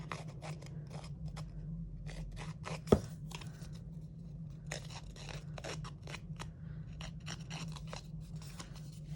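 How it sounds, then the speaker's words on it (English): Scissor edge scuffing and roughing up the edge of a sheet of paper for a junk journal, a steady run of soft, dry scratchy strokes close by, with one sharper snap partway through. "we're going to use the edge of our scissors to scuff up the edge."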